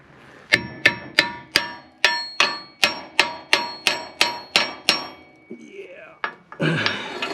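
Steel hammer striking a pin on a John Deere dozer, fourteen sharp ringing metallic blows in a steady rhythm, close and loud, followed by scraping and a clank.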